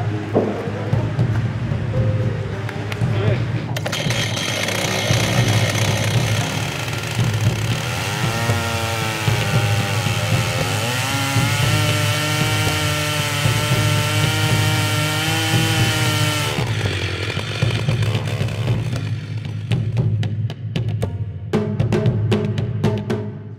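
A chainsaw makes its first cut into a log to carve a waka canoe, loud and sustained, its engine revving and bogging as the chain bites into the wood for about twenty seconds.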